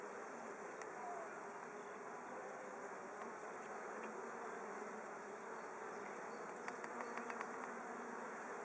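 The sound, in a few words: honey bees in hive after queen release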